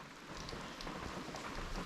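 Rain falls steadily outdoors, a continuous dense patter of drops at moderate loudness with no voices.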